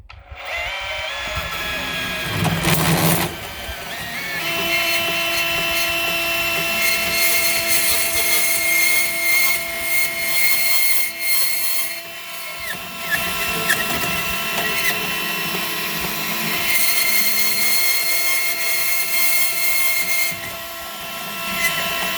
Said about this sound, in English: now we're gonna use the bandsaw and cut our rebar